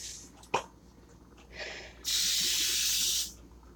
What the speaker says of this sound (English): I'm going to grab that spray